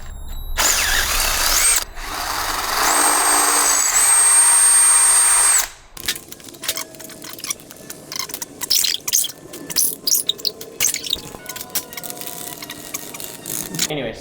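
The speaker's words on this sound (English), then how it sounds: "I'll drill out the washers to make it fit" A power drill whines steadily for about four seconds while boring out washers to fit a part on a stunt Grom motorcycle build, then stops and gives way to clattering handling noises.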